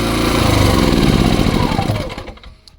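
FOGO inverter generator running in eco mode, a steady close engine drone that holds for about two seconds and then winds down and fades out toward the end.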